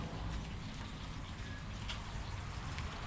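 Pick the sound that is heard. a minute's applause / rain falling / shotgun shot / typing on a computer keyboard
rain falling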